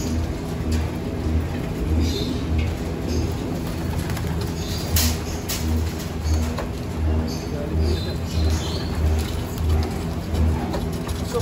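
Racing pigeons, the loft's cocks, drop in to land at their loft: soft cooing and scattered wing flutters sound over a pulsing low background hum, fairly close and moderately loud.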